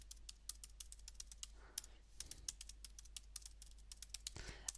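Fast, quiet typing on a computer keyboard while entering a username and password, with irregular clicking keystrokes and a couple of brief pauses and soft rustles.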